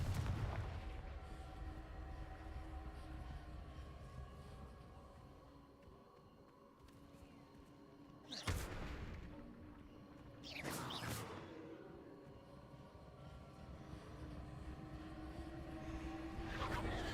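A Confringo fire blast spell in the Hogwarts Legacy video game: two sharp, loud bursts a couple of seconds apart, set over a low, constant rumble of in-game ambience.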